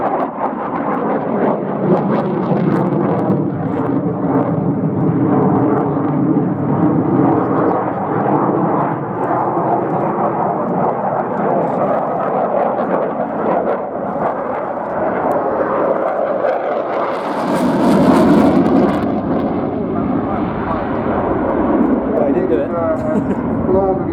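Aircraft engine roar from a plane flying an aerobatic manoeuvre at the Royal International Air Tattoo air show, loud and continuous with wind buffeting, swelling near the end, under a commentator's steady talk.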